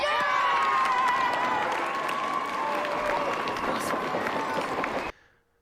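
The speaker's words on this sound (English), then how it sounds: "That was the least enthusiastic happy clapping I've ever seen" Applause and clapping from a crowd in a Harry Potter and the Philosopher's Stone film scene, with some cheering and music underneath, steady and fairly loud, cutting off abruptly near the end.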